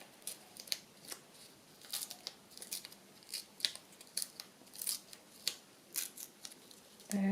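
Scissors snip repeatedly through paper, trimming the edge of a Christmas journal envelope flip-out, close and crisp with a steady run of short cuts and a brief bump at the end.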